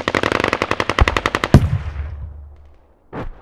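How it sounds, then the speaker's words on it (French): Loud, close gunfire effects from a stage show: a rapid machine-gun burst of evenly spaced shots, then a heavy blast with a long decaying rumble, and a final short burst. "des bruits de fusillade, des bruits de tir, qui sont très proches de toi"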